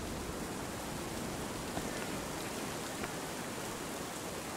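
Steady rain in the video game Lunacy Saint Rhodes, an even, continuous hiss of falling water at moderate level with no other sounds.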